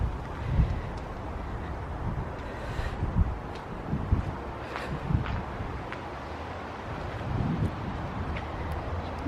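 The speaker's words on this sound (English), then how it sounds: "Really windy." Strong gusts buffet and roar across the microphone in uneven bursts, a rough, blustery noise with no one speaking.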